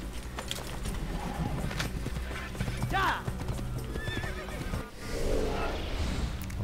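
A horse in the Assassin's Creed video game whinnies loudly with a rising, wavering neigh while steady clip-clop hoofbeats trot along beneath it, backed by continuous game ambience.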